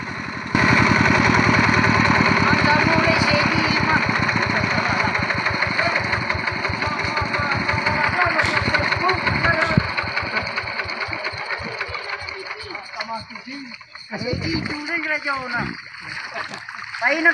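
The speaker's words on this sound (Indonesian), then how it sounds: "menampilkan membajak sawah menggunakan traktor mesin" A motorized hand tractor ploughs a rice paddy in Kamang Hilir, its engine chugging loud and steady up close for about ten seconds before easing off, with other rougher outdoor sounds following.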